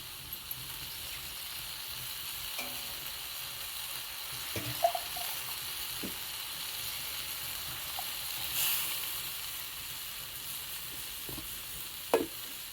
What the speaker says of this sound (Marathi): आता आपण आपल्या आवडीनुसार पाणी टाकायचं